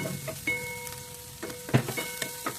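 Garlic and onions fry in a pan for a Filipino adobong kangkong with chicken, giving a soft, steady sizzle broken by a few light clicks and taps.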